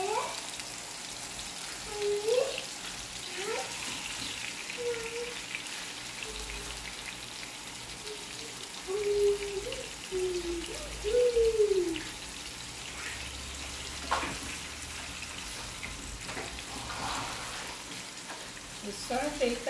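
Pieces of beef liver frying in a frying pan give a soft, steady hiss and patter of spattering oil, faint and continuous, while someone speaks intermittently over it.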